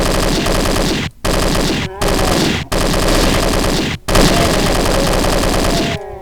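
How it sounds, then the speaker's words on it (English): Rapid automatic gunfire blasting at enemies in the shooter game Doom 2, loud and continuous in long sustained bursts broken by a few brief silent gaps. "we're just gonna shoot people anyway"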